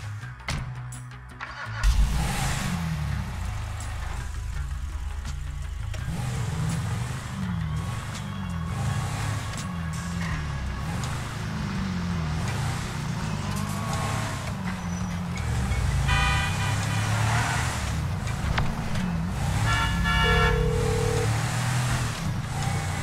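Car engine in Grand Theft Auto V starts up and then runs steadily as the car drives, a continuous hum that rises and falls with revs under game sounds and occasional beeps.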